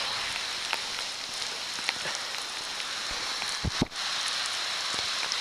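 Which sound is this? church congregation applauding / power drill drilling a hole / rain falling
rain falling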